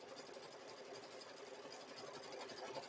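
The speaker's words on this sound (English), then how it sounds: "So it's quilting the back." An embroidery machine quilting the back of a zipper bag held in the hoop, giving a steady, even mechanical whir that runs without pause throughout.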